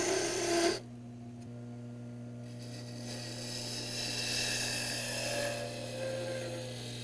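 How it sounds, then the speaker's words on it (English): A wood lathe turns a spindle while a half-inch spindle gouge takes off material, giving a steady, even machine hum with a brief louder burst at the start. "I'm going to use my 1/2-inch spindle gouge to take out most of the material here"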